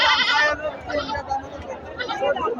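Goats and sheep bleat at a busy rural livestock market, with a loud nearby call at the start followed by further bleats mixed with crowd chatter.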